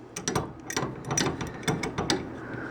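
An adjustable wrench tightens a leaky toilet shut-off valve, giving a series of close, short metallic clicks and scrapes in an uneven rhythm, fairly quiet and with no talking.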